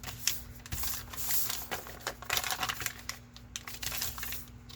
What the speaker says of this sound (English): I'm gonna fold these in half.